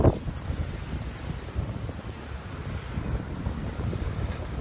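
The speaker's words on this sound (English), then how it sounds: "I'm here getting some spectacular waves." Sea waves wash onto a beach in Valencia, Spain, as wind buffets the microphone, making a steady, loud roar of surf and gusts with no voices.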